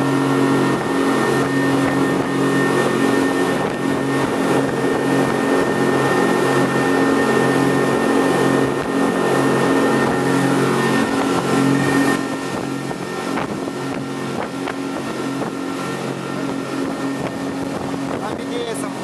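A small speedboat motors across open water in the Maldives, a loud steady engine drone with wind buffeting the microphone and a slight drop in level partway through.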